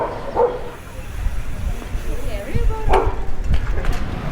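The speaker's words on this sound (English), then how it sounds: "First dog of the trip." A dog on a Kathmandu street gives a couple of sharp barks, one early and one later, amid street noise and people talking.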